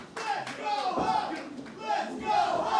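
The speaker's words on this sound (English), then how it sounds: "And listen to this crowd getting behind their man." A wrestling event crowd roars and cheers loudly and continuously, with rising chanting swells and voices shouting throughout.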